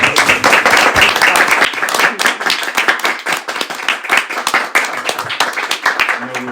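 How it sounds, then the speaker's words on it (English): A small audience claps after a presentation and conversation, loud close-up handclaps in an uneven rhythm that keep going for several seconds, with a voice briefly audible near the end. "Everybody give Kiki a round of applause."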